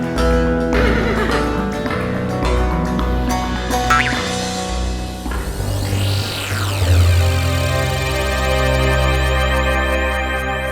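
A horse in a stable gives loud, prolonged whinnies and neighs, close and sustained, with hoof clip-clops mixed in.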